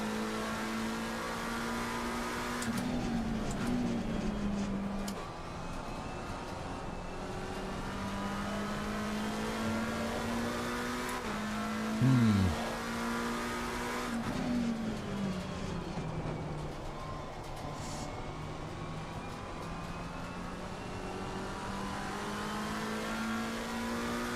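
A race car engine drones and revs in the racing game Assetto Corsa Competizione at Watkins Glen, with sustained engine tones rising and falling through gear changes and a brief louder bump midway, no talking.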